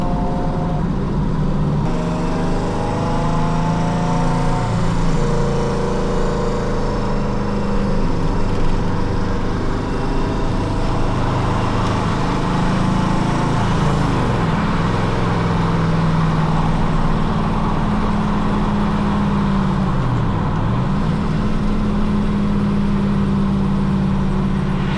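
A V8 Ford Capri cruises on the road at low speed, its engine a steady, loud drone with shifting harmonic tones as revs rise and fall, shifting gears throughout, heard from inside the car.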